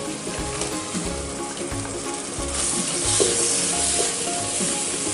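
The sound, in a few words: chopped tomato added to sizzling masala in pan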